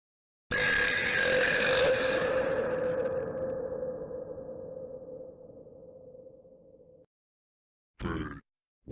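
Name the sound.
burping sound in animation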